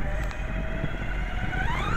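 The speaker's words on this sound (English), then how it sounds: "Motor's winding out." A stock Tamiya Midnight Pumpkin RC truck runs at top speed outdoors, its electric motor giving a steady whine that climbs in pitch over a rough, rumbling drivetrain noise.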